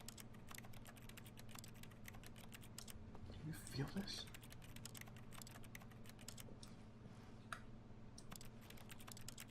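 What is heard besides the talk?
clicking on a computer keyboard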